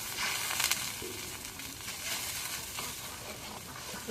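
A paste of garlic, onion and cumin fries in hot oil, giving a loud, continuous close sizzle and hiss that stays steady throughout.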